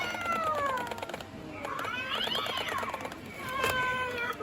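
A Halloween skeleton cat decoration in a Home Depot store plays repeated electronic meows over busy store background noise.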